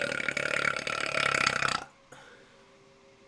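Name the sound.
burps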